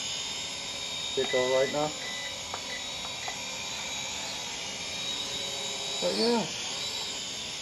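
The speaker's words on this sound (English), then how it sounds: "nice little drone" A small X5SW-V3 quadcopter drone flying at night gives a steady high-pitched whine of small propellers throughout, with someone talking briefly over it in two short bursts.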